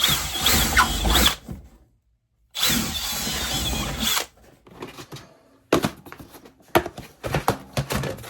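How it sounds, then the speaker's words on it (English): A power drill whirs in two sustained bursts with a pause between, poking holes while building a DIY paint booth, followed by scattered clicks, knocks and handling noises. "Well, I have a drill."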